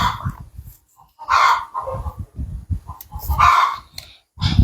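Chickens and a rooster in a Thai home setting, loud nearby clucking and squawking calls in repeated bursts, with short gaps of quiet between them.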